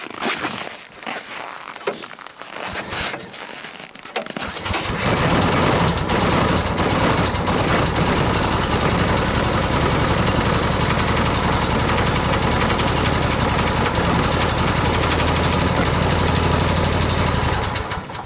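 An engine is fired with its electric starter after a few seconds of quieter rattling, then catches and settles into a loud, rough, steady cold idle that holds without letup.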